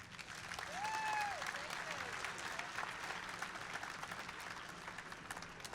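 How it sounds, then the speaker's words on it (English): A crowd at a 2025 FIRST robotics district event in Albany applauds, a faint, distant, sustained wash of clapping with a brief whistle-like tone near the start. "Please, give them a huge round of applause."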